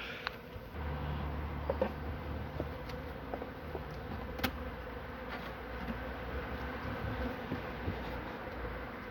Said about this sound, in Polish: Tu sobie cała buła pszczół siedzi w narożniku